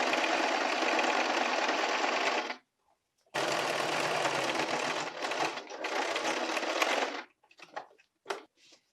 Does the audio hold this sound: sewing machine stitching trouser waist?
yes